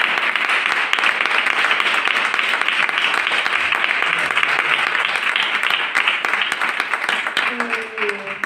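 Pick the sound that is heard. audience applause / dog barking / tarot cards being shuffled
audience applause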